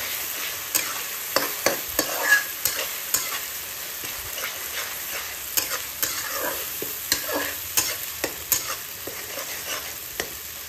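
Green chillies fry in a pan with a steady soft sizzle, punctuated by regular scraping clicks of a spatula stirring, close and clear with no talking.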